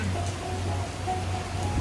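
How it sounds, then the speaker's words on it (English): Heavy rain falls over Bangkok's tall buildings in the rainy season, a steady, dense wash of hiss and patter that stays loud and unbroken throughout, with a low constant hum beneath. "It's just pure rain."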